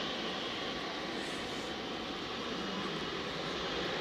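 An aircraft engine spooling up at East Midlands Airport during a night of freighter movements, a steady, dense roar at moderate distance with no voices over it.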